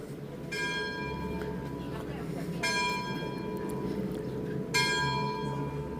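Church bell tolling in Portree, a harbour town on a Scottish island: three slow, ringing strikes spaced a couple of seconds apart, moderately distant over outdoor background murmur.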